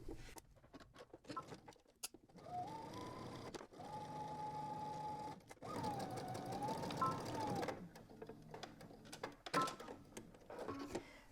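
A home sewing machine runs in steady bursts while stitching a garment's shoulder seam with a 5/8 inch seam allowance, motor whirring close and loud with short pauses and clicks between runs.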